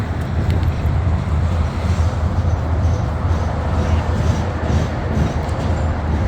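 A CSX EMD SD70MAC diesel locomotive in notch 8 leads a heavy coal train up the Mt. Airy grade, producing a loud, steady, close engine rumble and rolling rail noise that holds without a break.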